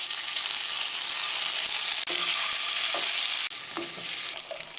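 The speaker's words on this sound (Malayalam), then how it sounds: "ഈ ഇതിലേക്ക് നമുക്ക് മുട്ട ചേർക്കാം. ഒരു മീഡിയം ഫ്ലെയിമിലിടാം." Eggs fry in oil in a pan over a medium flame, giving a loud, steady sizzle with a few brief clicks and scrapes and no talking.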